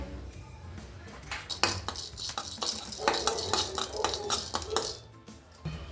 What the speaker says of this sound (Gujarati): લવિંગ ગરમ કરીશું ને થોડા શેકી લઈશું આપણે